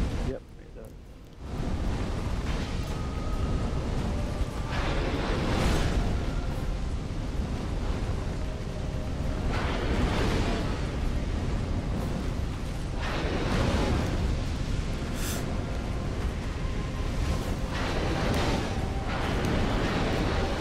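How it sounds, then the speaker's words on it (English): The Smelter Demon's fire attack in Dark Souls 2 roars as a dense, continuous rumbling blast of flame, loud and sustained with surging swells throughout. "that fire goes straight through this shield"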